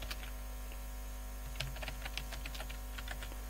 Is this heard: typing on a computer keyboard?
yes